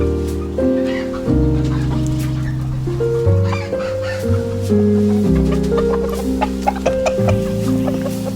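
Backyard chicken coop hens clucking and murmuring repeatedly, close and fairly loud, with tonal calls shifting in pitch over a steady hum and occasional sharp pecks or taps.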